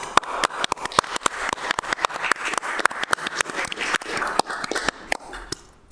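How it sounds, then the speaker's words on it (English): A round of applause fills a city council meeting chamber, steady overlapping claps from a modest group that taper off near the end, with no talk over them. "Let's give yourself a round of applause."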